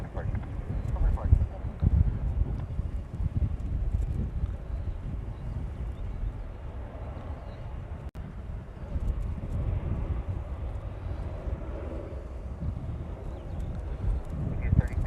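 Gusty wind buffets the microphone at Honolulu's airport, a steady low roar that swells and eases over the whole stretch, with faint voices murmuring underneath.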